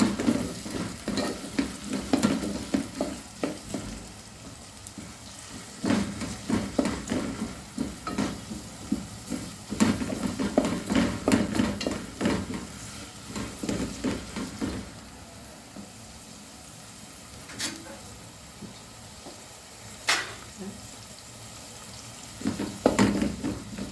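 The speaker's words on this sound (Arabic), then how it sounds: "نشوح البصله شويه كده" Onion sautéing in a pan for pasta sauce, with bursts of sizzling and clattering stirring scrapes coming in irregular waves, then calmer stretches broken by a few sharp knocks, close by with no talk.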